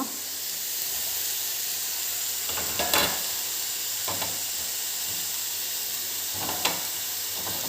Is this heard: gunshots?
no